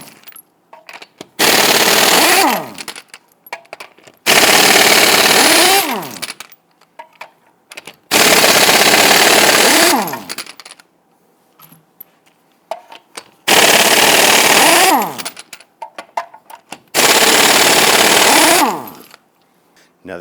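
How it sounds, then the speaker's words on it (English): Impact wrench on lug nuts of a Toyota Tundra wheel: five loud bursts of rattling hammering, each about two seconds long, separated by short quiet gaps. "Using a 21mm socket, let's loosen and remove our lug nuts."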